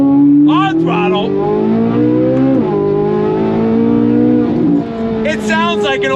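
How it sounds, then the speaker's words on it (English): A modified Chevrolet C8 Corvette Z06 with aftermarket exhaust screams at high revs on throttle, a loud sustained shrieking engine note climbing and shifting pitch, close up and dominating throughout. "the Z06 already had a very, very crazy sound, but with that exhaust and everything else, it's insanity"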